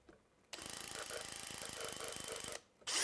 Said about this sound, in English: We're going to be drilling this hole a little bit crooked